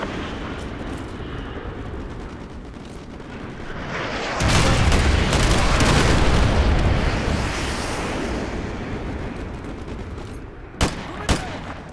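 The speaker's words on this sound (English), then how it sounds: "Designated to call in artillery on those vehicles. Fire mission received. Artillery inbound." Artillery strike explosions in Call of Duty Modern Warfare 2, a heavy rumbling blast swelling in midway and booming for several seconds over steady battle noise, followed by two sharp cracks near the end.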